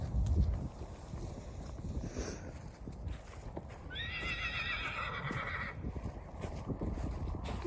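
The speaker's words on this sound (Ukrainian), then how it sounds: "коні у нас в селі тут є." Horses, mares kept on a village farm, whinny and neigh outdoors over wind noise, with a long high neigh in the middle and a few hoof clops.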